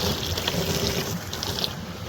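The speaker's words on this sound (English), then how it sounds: "So I did open the penstock. It's currently guzzling water, filling up." Water gushes steadily into a hydro penstock as it fills, a loud, continuous rushing wash with no pauses and no voices.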